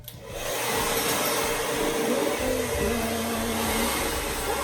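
A hair dryer fitted with a diffuser attachment switches on and whirs in a steady, fairly quiet airy drone that holds for several seconds without pause.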